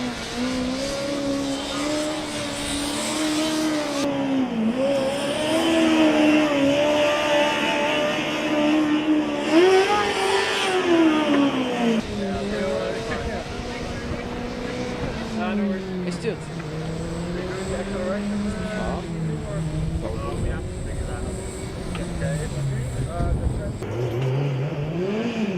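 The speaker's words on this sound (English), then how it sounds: "this car sounds amazing as it takes off" Formula Student combustion race car from a Polish team from Wrocław on a skidpad, its engine note rising and falling in sweeping revs as it accelerates and circles, loud and close, with a voice talking over it.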